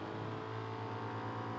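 A motorcycle engine in the racing game Ride 3 drones at a steady pitch, a continuous faint hum with no change in revs over a brief moment.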